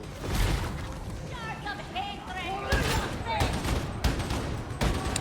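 Gunfire from an inaccurate gun in the video game Warhammer 40k Darktide: repeated short bursts of shots over steady game noise, loud and close, with someone talking over parts of it.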